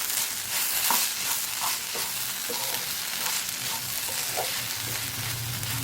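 Spiced mixture with garam masala stirred and fried in a pan, loud dense sizzling with repeated scraping strokes of the spoon throughout, close and without talk.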